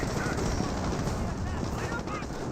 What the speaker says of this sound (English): That may be an actual barrage right there.